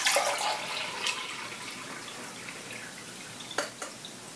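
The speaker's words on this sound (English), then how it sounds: "So let me pour this back in here." Water is poured back into a plastic bottle after a frozen bottle has thawed, a brief splashy trickle near the mic that tapers off into a few faint drips.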